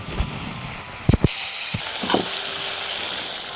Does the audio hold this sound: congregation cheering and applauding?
no